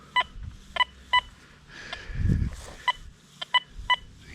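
A Deus 2 metal detector gives short, high target tones over a possible buried bolt. About eight quick beeps come at irregular intervals, close and clear, with a brief low rumble of handling noise in the middle.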